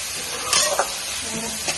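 Onions and chicken frying in a pan while being stirred, a loud continuous sizzle with a couple of brief scraping strokes of the spoon.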